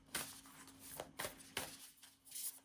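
Cards slipped and drawn from a Vampire Oracle deck: a few quiet, crisp papery swipes and taps spaced across a couple of seconds, close and soft with no talking.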